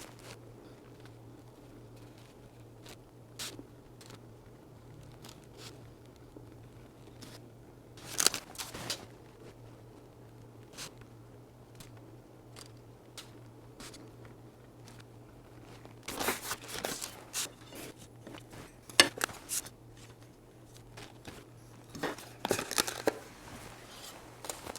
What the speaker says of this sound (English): We're going to trim this just like we did the aft wrap. We'll use a fresh number 11 blade to cut this.